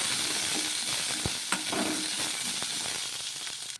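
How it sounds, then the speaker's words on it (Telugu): Green chillies sauté in a little oil in a pan for a roasted gram chutney, giving a close, continuous crackling sizzle with a few sharp spatula taps and scrapes. "అందులోకి కారానికి తగ్గట్టు పచ్చిమిర్చి వేసేసుకొని అందులోకి కొద్దిగా నూనె అయితే వేసుకొని ఈ పచ్చిమిర్చిని వచ్చేసి మగ్గించుకోవాలి"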